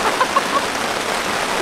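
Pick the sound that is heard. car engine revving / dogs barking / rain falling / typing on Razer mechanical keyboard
rain falling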